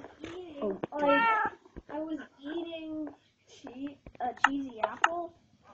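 A cat meows repeatedly in short, close, moderately loud calls, interleaved with a voice speaking nearby.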